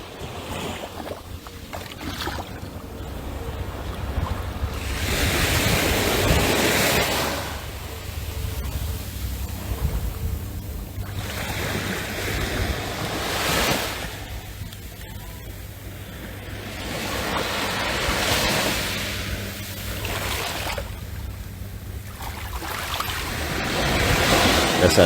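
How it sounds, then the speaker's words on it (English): Gentle sea waves lapping onto the sand at Holetown Beach in Barbados, a soft surging wash that rises and falls in slow swells of a few seconds each, heard close with breezy background and no speech. "we're going to enjoy the sounds of the water as it's coming up on the shore"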